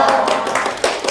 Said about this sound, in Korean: 웬 박수를요?